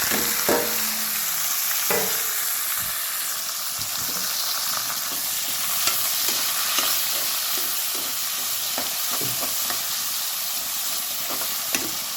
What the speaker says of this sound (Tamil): கருவேப்பிலை, பொடி வெங்காயம் கட் பண்ணி வச்சுருக்கு, அதை சேர்த்துருக்காங்க.